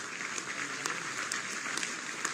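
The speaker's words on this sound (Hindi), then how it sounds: "जोरदार तालियां, इनका मनोबल बढ़ेगा।" Steady applause from an audience at a civic ceremony in Uttar Pradesh where sanitation workers receive safety kits, with continuous clapping and a few sharper claps standing out.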